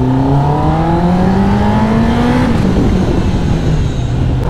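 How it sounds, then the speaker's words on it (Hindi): A motorcycle engine revs loud and close as the rider accelerates, its pitch climbing smoothly for a couple of seconds, then dropping and settling into a steady roar. "सो गाइस चलो अभी बाइक हल्की सी खींचते हैं"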